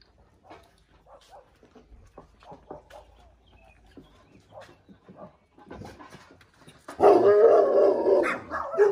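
A Dogo Argentino with a sore ear barks and yelps in loud, close bursts near the end, after a quieter stretch of scattered low sounds and movement.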